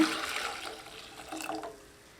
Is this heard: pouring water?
yes